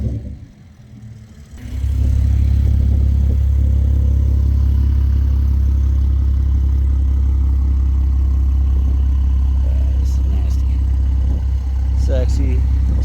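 Cars including Porsches and a Supra idling and revving at the start of a track event, a deep continuous engine rumble that swells after a quiet opening and holds steady, with someone talking over it.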